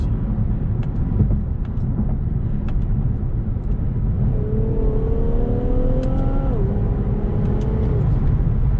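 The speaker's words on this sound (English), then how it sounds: "I do have the fake exhaust noise on." A car engine hums and drones from inside the cabin in Sport Plus mode, its tone rising as it accelerates with a fake, simulated exhaust note, then dropping back.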